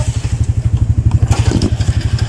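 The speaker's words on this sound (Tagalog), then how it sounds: "So we are now on a motor train." A motorized rail trolley runs along the track with a loud, close, rapid rhythmic chugging of its engine and scattered rattles and clatter over it.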